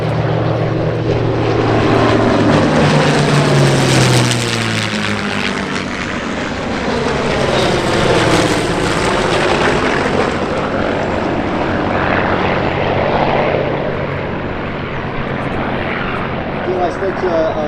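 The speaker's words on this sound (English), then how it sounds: "Corsair, last pass." A Corsair propeller warplane makes its final pass at an airshow, the engine drone swelling loud as it approaches and sweeps by, then fading, with a voice speaking over it.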